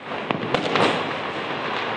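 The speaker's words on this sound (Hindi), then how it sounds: "रॉकेट से बम पटाखों से कैसा लग रहा है" Diwali fireworks, rockets and bomb firecrackers go off in the open, with a few sharp bangs and a crackling burst over a continuous rumbling wash of distant explosions.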